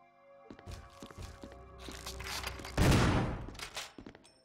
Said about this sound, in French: je sais pas où je tire ni sur quoi je tire